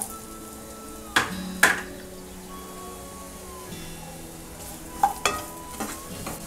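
Radish pieces frying in a pan with dried red chillies for radish chutney, a soft steady sizzle with a few sharp spatula scrapes, close and quiet, no talking.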